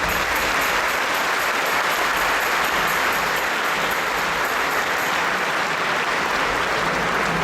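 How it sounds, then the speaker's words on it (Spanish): Loud, steady audience applause welcoming a Franciscan friar giving a talk, a dense continuous roar of many hands clapping at even strength throughout. "Fray Ignacio Urbina, a quien recibimos con un fuerte aplauso"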